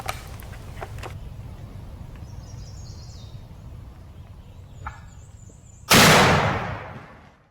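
A wild turkey gobbles during the spring season outdoors: a few faint, distant calls early on, then one loud, close gobble bursts out near the end and trails off in a quiet setting with no talking.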